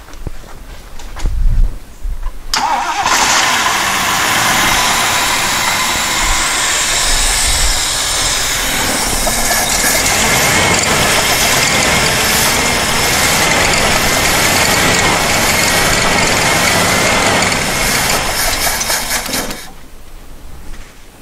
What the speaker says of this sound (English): let's try starting it again. It should idle.